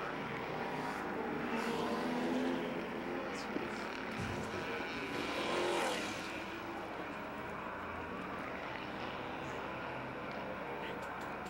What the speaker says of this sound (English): And the checkered flag that awaits car number 45 of Scott Maxwell